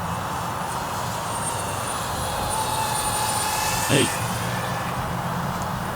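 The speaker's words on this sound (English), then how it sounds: "this drone is handling this wind very well, and it's so much quieter" A steady high-pitched motor whine from a DJI Avata 2 drone in flight in wind drones on continuously, with a voice talking over it and a brief rising tone near the end.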